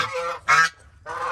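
Farm geese give three loud, close honks in quick succession, with brief pauses between them.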